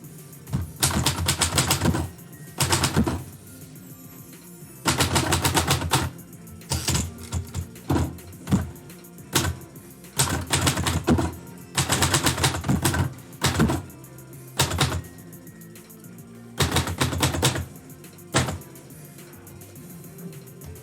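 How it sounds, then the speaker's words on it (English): A typewriter clatters through bursts of fast keystrokes, each run broken by short pauses, with occasional single heavier clacks between, close and clear without any talking. "I think that the sound of typewriter work might actually be conducive to help people feel"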